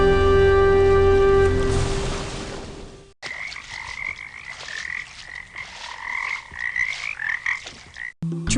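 Frogs croaking in a dense, rapid chorus of repeated calls, heard fairly close after a few seconds of a steady, ringing tone.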